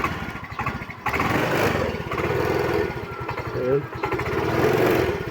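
Yamaha Mio i 125 scooter with a fault that makes it stall soon after starting, its small engine idling with an uneven putter close by while someone talks over it throughout.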